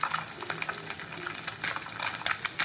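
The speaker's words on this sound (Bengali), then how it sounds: "এক এক করে তো আমার সব মাছই ভাজা হয়ে গেল," Soft fish for a kajli mustard-oil curry frying in hot oil, giving a steady crackling sizzle with sharper spatter bursts near the end, close and alone without talk.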